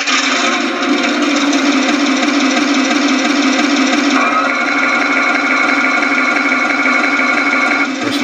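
A Tamiya Tiger I radio-controlled battle tank runs its simulated engine sound, a steady, loud droning idle with a buzzing mechanical texture that holds evenly for several seconds, shifts slightly partway through and cuts off at the end.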